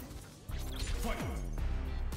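A dragon punch special move lands in Street Fighter 6, a sharp smashing hit followed by a swooshing impact and whooping effect tones over game background noise.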